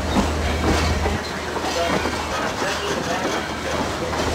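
A CSX freight train rolls past close by, a steady broadband rumble of railcars with a low engine drone, loud and continuous throughout.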